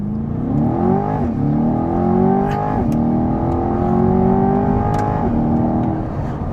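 A 2023 Chevrolet Corvette Stingray Convertible's V8 launches hard, revving up loudly through several rising gear pulls with brief dips at each shift, heard from inside the car without talk.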